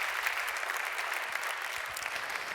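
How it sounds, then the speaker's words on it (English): Audience applause fills a hall at an award ceremony for the Intersolar solar energy awards, a steady, dense wash of clapping throughout with no talk over it. "here's your applause once again"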